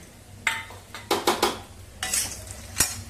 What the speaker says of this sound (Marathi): सर्व चांगलं तेलावरती तळून घेऊया.